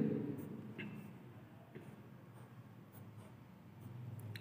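Faint scratching of a pen or marker writing out a chemistry reaction mechanism, with soft intermittent strokes and light taps over low room noise.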